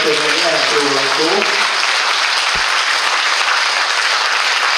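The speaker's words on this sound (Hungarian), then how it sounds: "hogyha egy nagy tapsot kapunk, akkor esetleg lehet róla szó" Concert audience applause, a loud continuous roar of clapping from a large crowd, with a sung or held voice briefly audible at the start before the applause fills everything.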